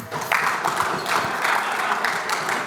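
Steady crowd applause at a hockey academy awards banquet, many hands clapping together in a dense, continuous patter that stays fairly loud throughout.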